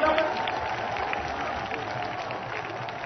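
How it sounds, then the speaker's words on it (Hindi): Crowd clapping at a public meeting in Sikar, Rajasthan, a steady, moderately distant wash of applause with a murmur of voices underneath. "एक बार तालियों की गड़गड़ाहट से जोरदार अभिनंदन करें, स्वागत करें"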